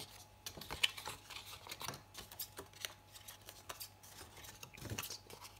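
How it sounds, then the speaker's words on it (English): Scissors snip the centres out of paper pockets while a card-making project is assembled, a run of small uneven cuts and rustles of paper at close range with no talking. "So we're just going to trim off the centers."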